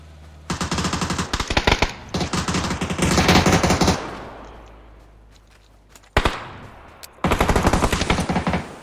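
Automatic gunfire in a video game comes in several loud, rapid bursts separated by short pauses, with an echoing tail after the longer volley and no talking.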